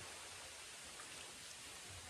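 Heavy rain falls steadily in an outdoor fishing spot, a dense, even hiss of drops with no breaks, faint and distant-sounding throughout.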